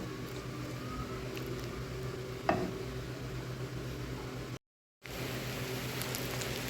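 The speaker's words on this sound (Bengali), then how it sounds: "এখন সরিষার তেলে পেঁয়াজ এবং রসুনটা বাদামি করে ভেজে নিব।" Onion and garlic browning in mustard oil, giving a steady, close sizzling hiss with one brief sharp tap partway through and a momentary dropout near the end.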